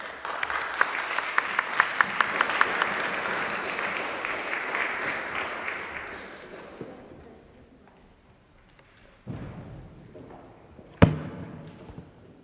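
An audience at a talk about Christian life in the Holy Land claps loudly to welcome a speaker. The applause swells for several seconds, fades out, and a few scattered thumps follow.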